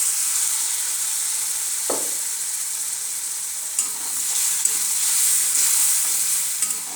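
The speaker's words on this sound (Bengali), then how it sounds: "এবার মশলাটা আমি ভালো করে কষিয়ে নেব" Masala for a jackfruit curry frying in a pan with turmeric and a little water, a steady close sizzle and hiss under occasional scrapes and stirs of a spoon, with no talking.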